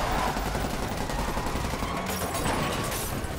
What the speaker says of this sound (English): Oh, there's gunfire.